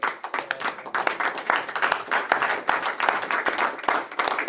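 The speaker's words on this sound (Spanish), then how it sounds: "Dale fuerte el aplauso" A church congregation applauds during a pastor's sermon, with distinct hand claps in a fast, uneven patter from a modest crowd, fairly close and moderately loud, pulsing without pause.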